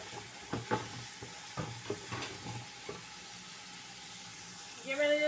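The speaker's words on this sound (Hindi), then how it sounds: "ये अब थोड़ा सा मैं भून के लहसुन अदरक अभी दिखाती हूँ।" Ginger-garlic paste is stirred and fried in a pan for Lahori biryani, with intermittent soft scraping and sizzling strokes, then a brief clatter near the end, fairly quiet throughout.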